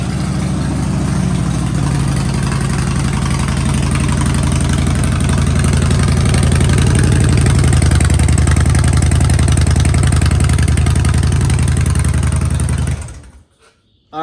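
A motorcycle engine runs loud and close at a steady idle, a dense continuous rumble lasting about thirteen seconds before it cuts off abruptly into silence.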